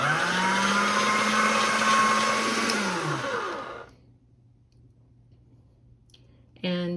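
Polymer clay fed through an Atlas 180 pasta machine: a steady motorized whir with a gliding pitch runs for about three seconds, winds down into near silence, then briefly starts again, close up.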